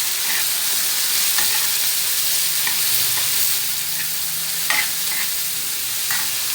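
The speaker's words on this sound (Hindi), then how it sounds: "और इनको अच्छे से फ्राई करते जाना है।" Spices and garlic paste fry in a pan while being stirred, giving a steady close sizzle with soft scraping stir sounds throughout and no talking.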